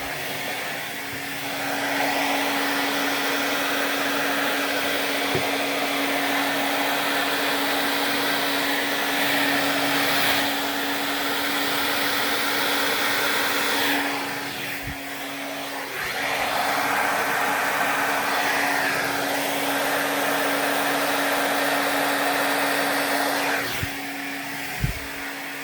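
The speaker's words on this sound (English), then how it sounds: "I'll just do the regular hair dryer." A regular hair dryer blows steadily across wet fluid acrylic paint in a paint-pour painting to open up large cells, a continuous close whooshing roar with slight dips as it moves, no voices.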